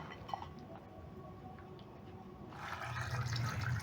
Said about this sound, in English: Add enough water to submerge the chicken.